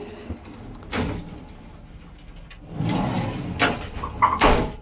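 Sliding glass shower door in an RV bathroom, a Sierra 388 BHRD, giving a couple of rolling, rattling slides with soft knocks as it opens and closes, close by and alone without talk.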